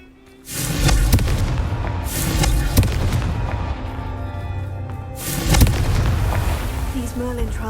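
Booming blasts from the Confringo fire curse in Hogwarts Legacy go off in three heavy bursts, loud and close, each trailing into a rumbling tail over a steady game background.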